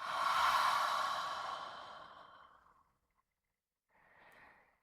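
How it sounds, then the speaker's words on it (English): A slow, soft exhale through the nose and mouth, close and breathy, tapering off gradually over a couple of seconds, then a brief quieter breath follows after a pause. "And slowly breathe out."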